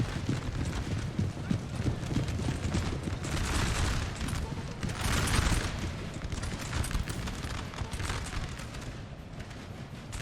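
Cavalry in the Napoleon: Total War video game charges with dense, continuous pounding of horse hooves mixed with crackling musket volleys, a loud, unbroken battlefield roar lasting the whole stretch.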